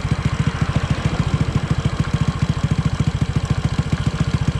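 A Honda Wave 100 motorcycle engine idles steadily during carburetor adjustment, a loud, close, even single-cylinder putter with rapid regular pulses and light mechanical clatter, no talk.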